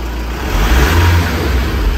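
Car engine accelerating under an RT12 radial hand control, a steady mid-pitched revving drone that swells slightly and holds, close and fairly loud with no talk.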